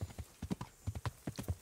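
Hooves of a horse being ridden in Kingdom Come: Deliverance, a steady rapid clip-clop that is close and moderately loud, with no talking.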